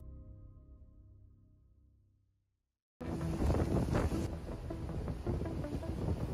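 Typhoon Podul's winds of over 190 km/h strike the Taitung County coast of Taiwan. After a low hum fades into a brief silence, a loud, dense roar of wind and storm noise begins abruptly and continues unbroken.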